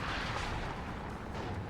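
Cluster artillery in the video game WARNO, a dense, rumbling roar of overlapping blasts that stays loud and continuous with no voices.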